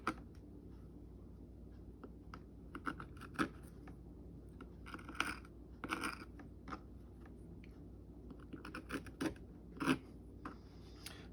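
Scissors snip paper in short, quiet, irregular cuts, close by, against a soft steady background hum.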